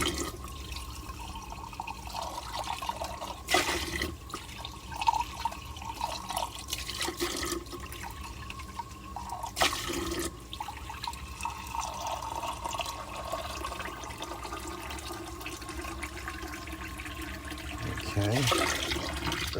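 Warm water rinsing out an RV grey tank, a steady rushing and gurgling flow with splashy bursts and a louder surge near the end, with voices talking over it now and then.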